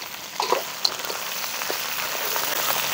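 Crab crackles and sizzles in a hot pan while frying for a Thai curry, a steady close frying hiss with a few sharper pops and clicks near the start and no talking.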